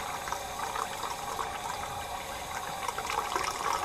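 Running water pours steadily over a crankbait fishing lure as it is rinsed off, a continuous close splashing and trickling wash with no talk.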